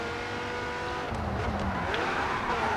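A race car spins out in the GRID 2 racing game, its tires squealing and skidding loudly over an engine roar for a couple of seconds, with no talking.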